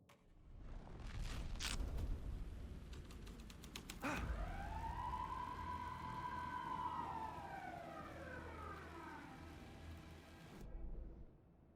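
Police car siren from Alan Wake II: after a few sharp clicks, a loud wailing tone sweeps up and slowly falls away over several seconds, under a low rumble like rain or distant thunder.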